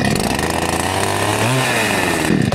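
A chainsaw engine catches after the choke is closed and runs at a loud, steady roar close to the microphone, with a brief dip in pitch near the end.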